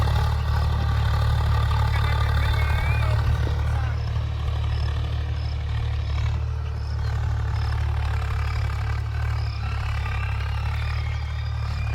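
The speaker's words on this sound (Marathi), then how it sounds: "आता हे ट्रॅक्टर पेरताना," A tractor engine runs during soybean sowing, a continuous low idling rumble that stays steady and close, with faint background voices underneath.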